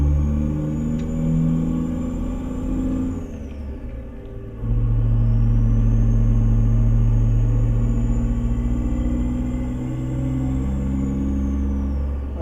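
Cummins Big Cam diesel engine in an old Peterbilt 351 truck in a trucking simulator, pulling a dump trailer through British Columbia: a loud, deep, continuous rumble that dips and then surges as the engine revs back up under load, with no talking.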